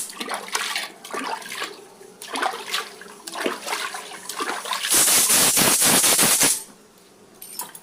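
Water splashes and runs while a stone mortar is rinsed, with rubbing and sloshing gurgles. A louder steady gush pours for a couple of seconds, then fades to quiet. No speech.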